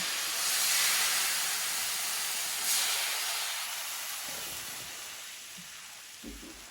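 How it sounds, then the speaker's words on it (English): White wine poured into a hot paella pan, giving a loud steaming hiss that swells at the start, flares again briefly, then slowly fades, with no talk over it. "And then we also want to start adding the white wine."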